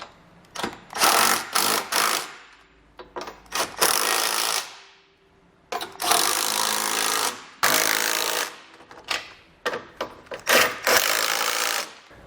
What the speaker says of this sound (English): we'll come back and first snug up this hardware using a 17mm